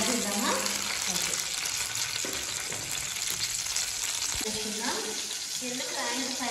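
Cumin and coriander seeds sizzle steadily in hot oil, a continuous crackling hiss with scattered pops and occasional stirring clinks, a voice faintly present in the background.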